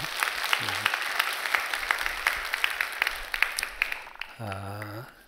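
Church congregation applauding, a dense run of claps of moderate loudness lasting several seconds, with a voice briefly heard at the start and again near the end.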